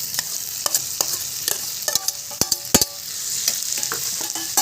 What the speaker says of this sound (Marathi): आणि व्यवस्थित चांगलं मिक्स करून घेऊया